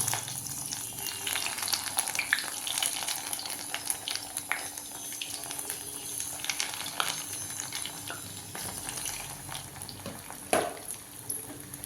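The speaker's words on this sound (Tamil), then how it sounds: "நான் நல்லெண்ணெயில் தான் பொறிக்கிறேன்" Chicken kola balls fry in sesame oil over low heat with a steady close crackling sizzle, broken by a few louder pops and a brief stir or clink near the end.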